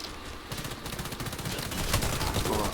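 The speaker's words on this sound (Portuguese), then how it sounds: "Vamos ver esses tiros" Rapid automatic gunfire in a multiplayer shooter video game, dense bursts of shots crackling continuously and close, with no talk over them.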